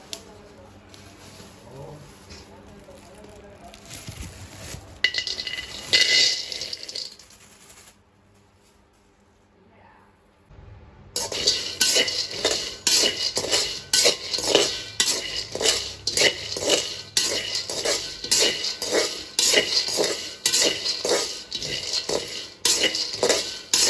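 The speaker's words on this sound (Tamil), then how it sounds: "அதில் வந்து இப்போ நான் கச்சானை வறுத்து கொள்ள போகிறேன்." Peanuts being dry-roasted in a pan for a homemade nutrition flour mix, a quiet hiss giving way after a short lull to fast, continuous rattling and clattering as the nuts are stirred and tossed against the metal.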